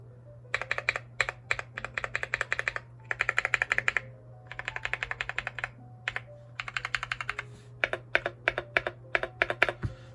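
Keys pressed one after another on a KBDfans 5 Degree mechanical keyboard with clipped, lubed GMK screw-in stabilizers, crisp close clacks in quick runs and pauses over a steady low hum.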